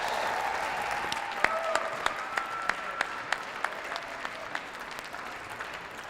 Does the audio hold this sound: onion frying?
no